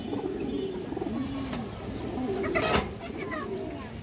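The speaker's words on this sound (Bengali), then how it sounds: "খুবই সুন্দর একটা মাদি কবুতর" Repeated low cooing from a female pigeon sits under nearby talking, with a brief clatter partway through.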